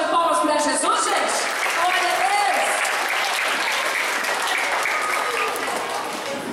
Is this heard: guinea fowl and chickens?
no